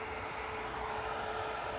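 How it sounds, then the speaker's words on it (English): A Ryanair airliner in from Stansted touches down at Manchester Airport, a continuous distant rumbling engine roar that holds steady and even throughout, with no voices. "Ryanair just touched down in the background from Stansted"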